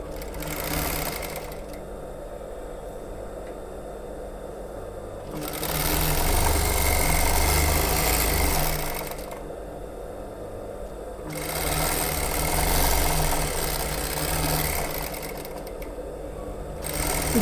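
A sewing machine stitches cloth to form a narrow tuck, running in steady bursts of fast mechanical whirring that stop and restart, close and fairly loud.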